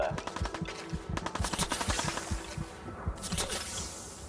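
In the video game Fallout 4, two grenade blasts go off back to back amid rapid, rattling gunfire, with a brief voice in the mix of the combat.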